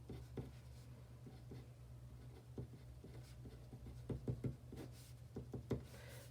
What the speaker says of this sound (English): Quick sketch of a number line.